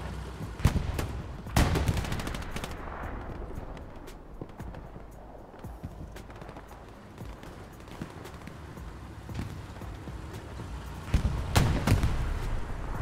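Gunshots ring out in several sharp, loud bursts at irregular intervals over a rumbling battle background, separated by quieter stretches.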